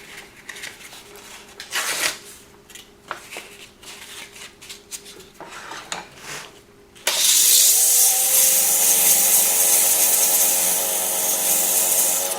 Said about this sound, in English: And I won't bore you with the sanding